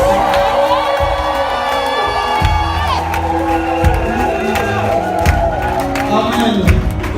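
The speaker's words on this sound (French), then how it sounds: "j'aimerais qu'on pousse les cris de joie" Church congregation at a baptism service shouting cries of joy, a loud sustained crowd of whoops, cheers and shouts with scattered clapping, rising in repeated waves over several seconds.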